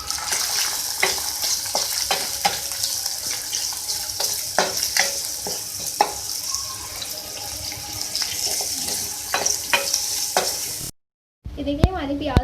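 Onions frying in oil in a karahi while being stirred, with steady sizzling and the scrape and clink of a spoon against the pan, followed by a brief cut and a quieter stretch at the end.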